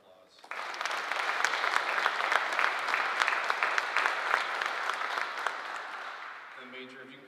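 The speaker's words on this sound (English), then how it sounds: "Let's give everybody a round of applause." An audience at a military squadron change of command ceremony bursts into sustained applause that rises quickly, holds steady for several seconds, then fades as a voice begins speaking.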